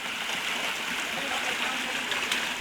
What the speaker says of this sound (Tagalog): At nasa ilog pala tayo.